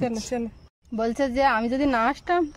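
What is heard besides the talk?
None of the usual background noises is heard.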